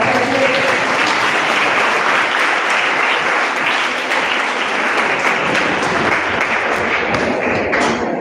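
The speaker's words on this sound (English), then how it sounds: "Please give a huge round of applause for our president." An audience at Shree Narayana Central School in Ahmedabad gives the school president a long, full round of applause, dense steady clapping in a large hall with faint voices.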